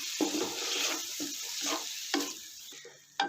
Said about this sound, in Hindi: चिकन का कलर चेंज होने तक हमने इसको हल्का सा भूनना है।